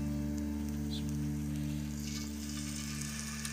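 An egg frying in a little oil on a hot tawa, giving a continuous close sizzle over a steady low hum, with no one speaking.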